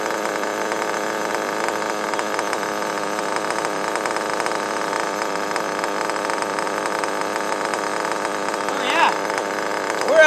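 A small engine is held at full throttle, droning in a steady high-pitched buzz that stays loud and close throughout and swells slightly near the end, with a voice speaking over it.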